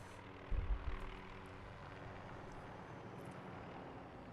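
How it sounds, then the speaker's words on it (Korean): Helicopter approaching in Call of Duty Modern Warfare, a low continuous rotor and engine rumble, faint and distant, with a short louder thump near the start and no talk. "바르코프가 헬기를 보내고 있다"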